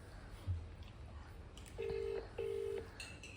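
An outgoing phone call rings on speakerphone. Two long, even ringback tones sound one after the other, faint over a low background hum, with no talking.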